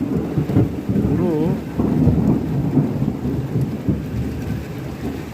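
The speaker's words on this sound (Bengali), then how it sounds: "বাংলাদেশের মতো মেঘের গর্জন।" Heavy rain in Finland with thunder rumbling steadily and loudly throughout, a deep continuous roll over the hiss of the downpour.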